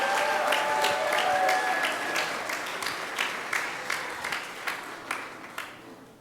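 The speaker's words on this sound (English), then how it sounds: "let's give a big round of applause to those fifth graders." An audience at a fifth grade graduation claps for the graduates, starting as dense applause and thinning out into scattered individual claps before fading, with a faint voice or two underneath.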